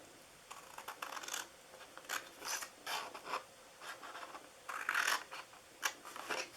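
Scissors snip through paper as the ends of a handmade Halloween treat box are trimmed, a close series of short crisp cuts and rustles in uneven bursts, with no talking.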